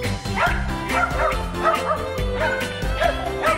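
Small dogs at a trick show bark and yip excitedly in quick repeated bursts, close and loud, with whimpering tones between barks.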